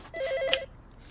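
A telephone rings once in a short electronic burst of repeated tones, close and fairly clear, then stops, with no talk over it.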